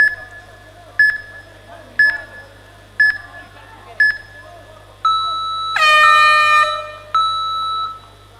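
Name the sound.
round timer horn at grappling match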